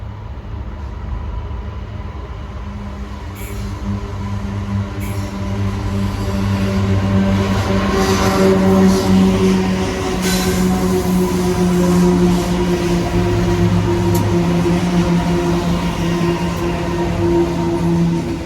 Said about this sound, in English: The most common loco by far was the UGL Rail C44ac1. This one is on the up coal line.